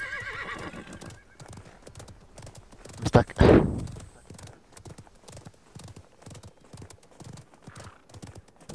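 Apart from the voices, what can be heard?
horse hooves and neighing in video game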